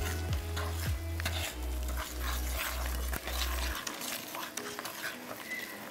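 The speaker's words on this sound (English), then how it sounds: "just gently mix that together" A creamy dessert mixture being gently stirred with a spoon in a bowl, with soft steady scraping and swishing that continues alone at moderate volume, a low hum underneath in the first part.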